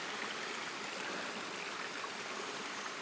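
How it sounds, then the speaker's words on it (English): Steady broadband rush of flowing water, like a creek spilling over small stepped waterfalls, constant and fairly close with no voices, on a hillside trail near Rundemanen, Bergen, Norway. "It's got some waterfalls there."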